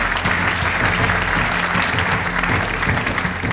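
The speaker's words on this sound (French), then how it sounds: "Oui, absolument, vous pouvez les applaudir." Audience applause at a French real-estate awards ceremony, dense steady clapping filling the room at an even level throughout, with no talk over it.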